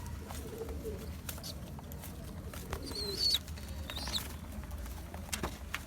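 Faint, thin squeaks from a young pigeon with an eye infection rise briefly over a steady low background hum, with a soft cooing note in between.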